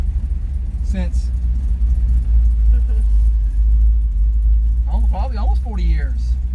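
A rebuilt 1982 Toyota 4x4 truck on the move, its steady low engine rumble and road drone filling the cab throughout while people talk over it.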